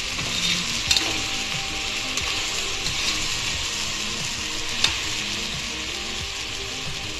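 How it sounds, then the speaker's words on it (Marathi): Spices with red chili powder and salt stirred in a hot pan for veg pulao made in a pressure cooker, a soft continuous sizzle with occasional scraping clicks of the spoon, no voices. "एकदम आता व्यवस्थित मिक्स करून घ्यायचे मसाले आपल्याला।"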